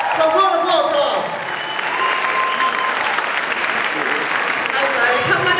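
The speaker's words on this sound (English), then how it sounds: "Give her a great big round of applause for Supanova from World of Warcraft" A crowd at a cosplay contest at the Supanova Gold Coast 2016 convention gives loud, sustained applause that continues steadily throughout, with cheering mixed into the clapping and a voice speaking over it.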